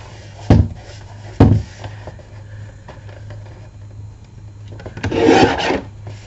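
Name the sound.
trimming a wooden piece down by filing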